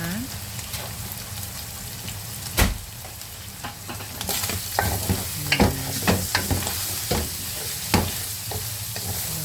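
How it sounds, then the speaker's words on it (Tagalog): Ingredients for pancit canton being sautéed and stirred in a pan, a steady sizzle with scattered scraping stirs and a few sharp utensil knocks, close and moderately loud. "Ayan, gisa-gisa muna tayo"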